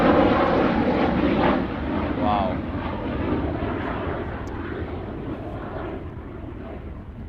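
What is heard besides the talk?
propeller airplane flying at an airfield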